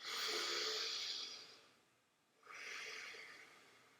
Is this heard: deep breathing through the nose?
yes